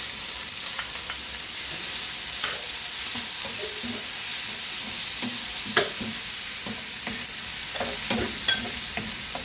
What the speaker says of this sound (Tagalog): Ituin muna natin sandali yung bawang.